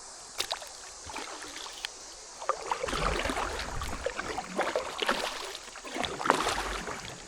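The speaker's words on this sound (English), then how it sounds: "This is the first time that it actually sounds like there's like a waterfall or something right here." Moving water heard from a kayak, a rushing, splashing wash with irregular paddle-like splashes and knocks, moderately close, building after the first few seconds.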